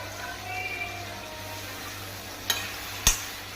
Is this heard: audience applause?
no